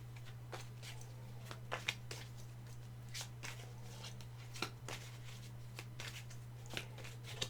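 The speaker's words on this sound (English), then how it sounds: "I'm going to shuffle up the cards here" Tarot cards shuffled by hand at close range, soft irregular riffles and taps repeating over several seconds, faint above a constant low electrical hum.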